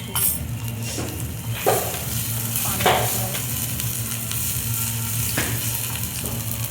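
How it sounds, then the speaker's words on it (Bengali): Steady sizzling of papad frying in hot oil, with a few brief stirring or scraping sounds rising above the continuous crackle. "পাঁপড় ভাজবো।"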